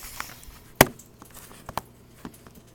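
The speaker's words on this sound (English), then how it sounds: "Finish chopping these onions." Onions are finely chopped on a cutting board, with a few sharp knife taps, one louder than the rest, over a quiet room.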